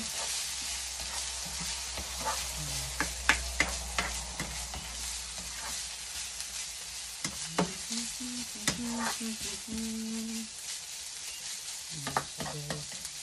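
Leftover chicken and cabbage stir-frying in a pan, a steady close sizzle with frequent scraping and clattering stirs of the utensil throughout.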